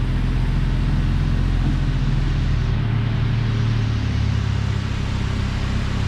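A car with a transmission that ran out of oil idles after start-up and is shifted into gear, a close, loud, continuous low engine rumble with a slight change in tone midway.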